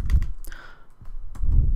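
Keys clatter on a computer keyboard while code is typed, a few quick presses at the start and end with a short gap between, close and crisp.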